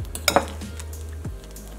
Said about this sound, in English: So you have to keep stirring it